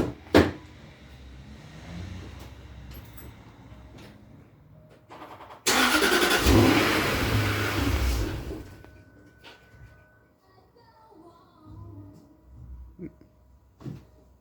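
A car engine with its mass airflow sensor left disconnected cranks and fires, roaring loudly for about three seconds before dropping back to a quieter, uneven running sound amid faint background clatter.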